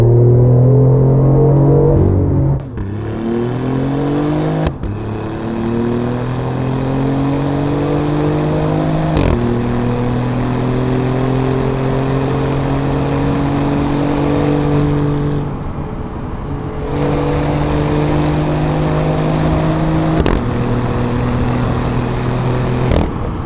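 A BMW i8 with an upgraded sports exhaust revs hard, its exhaust valve opening into a loud boom, pitch climbing repeatedly with brief drops between gears.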